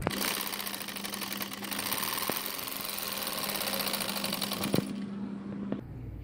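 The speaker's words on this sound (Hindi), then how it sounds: "ये देखिए मैंने योक की सिलाई लगा ली है फिटिंग वाली दोनों तरफ से।" A sewing machine stitches the fitted yoke of a peplum umbrella frock, its needle whirring in a steady fast rattle for about five seconds, close and alone, then stopping.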